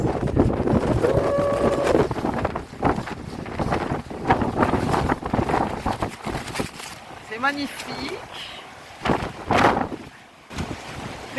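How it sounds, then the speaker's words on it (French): Strong, near-storm wind buffets the microphone in gusty roars at a cold bivouac campsite, while people talk over it in French. "On est dans le vent, quasi la tempête."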